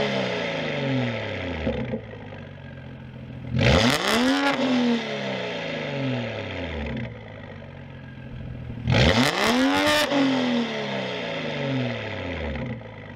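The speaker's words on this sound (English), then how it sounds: "All of the flybys, all of the high RPM shifting, many takes, sitting at like 205." A BMW F30 335 with an N55 engine, a Stage 2 Pure turbo and a Mosselman oil thermostat makes two high-rpm flybys. The engine rises to a roar as it passes close, then fades, with quick gear shifts between the passes.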